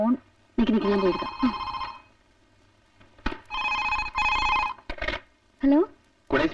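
A telephone rings in short repeated bursts during a scene from the Malayalam film Kaathil Oru Kinnaaram, with voices speaking between and over the rings.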